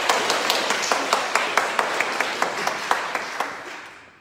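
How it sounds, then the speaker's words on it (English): A church congregation at an all-age Sunday worship service claps for the worship helpers, a moderate wash of applause with a few sharp distinct claps standing out, gradually fading at the end. "Can we have a big round of applause?"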